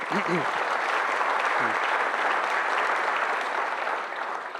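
An audience at a salon talk on Florida film history gives a round of applause, dense and steady clapping throughout with a brief voice or two audible early on.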